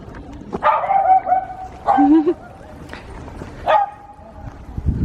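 A small dog barks and yips in three or four short excited bursts at a larger dog outdoors, fairly close and loud, with brief pauses between outbursts and faint background noise.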